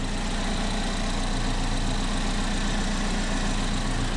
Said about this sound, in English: The engine's running fine.